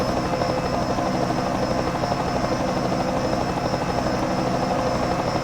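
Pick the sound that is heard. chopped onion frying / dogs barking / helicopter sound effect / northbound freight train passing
helicopter sound effect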